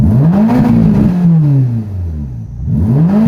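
A Ferrari Portofino M engine revs loudly and close by, its pitch sweeping up and down through a couple of throttle blips, dipping briefly before climbing again.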